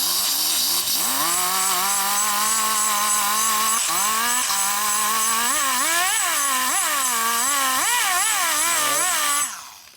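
A high-speed porting grinder whines continuously while lightly blending the port of a Screaming Eagle 80ci Evo Harley cylinder head, its pitch rising and wavering as it touches the metal, then stopping abruptly near the end.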